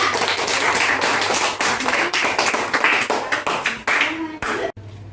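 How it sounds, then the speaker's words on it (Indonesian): Third-grade pupils applaud a group in class with close, sharp clapping, dense at first and thinning to scattered claps before stopping, with some talking mixed in. "tepuk tangan untuk kelompok A"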